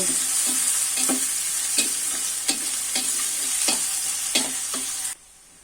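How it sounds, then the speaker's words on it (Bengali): Onion and garlic sizzle in a hot pan with a rhythmic series of scraping stirs, about one every half second, before the sound cuts off abruptly. "এখন আমি পেঁয়াজ আর রসুনটা ভালো করে ভেজে নিব"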